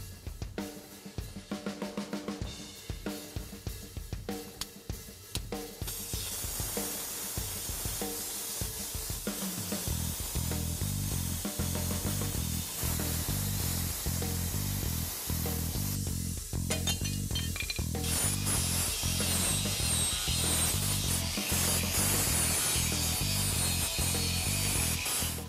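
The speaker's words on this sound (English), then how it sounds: "cut this old shock mount off and then trim and grind the bottom of this shock mount and control arm mount here" A power tool cuts and grinds through an old steel shock mount and control arm mount on a Jeep Wrangler JKU, a harsh, continuous close-up whine and rasp after a few intermittent bursts.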